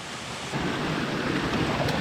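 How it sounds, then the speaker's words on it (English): A roughly 40-foot waterfall with cascading water on a rainy camping trip, a steady broadband rushing roar that swells slightly louder partway through, heard alone. "That's like a 40-foot waterfall, not including all this cascading stuff."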